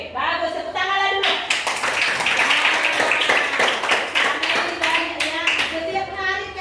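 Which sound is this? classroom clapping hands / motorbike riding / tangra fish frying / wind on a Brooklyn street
classroom clapping hands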